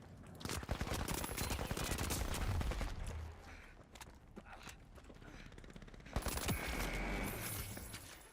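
Sustained rapid AK rifle fire in The Finals, dense automatic bursts loud and close with a brief pause midway before another burst, amid mechanical game noises.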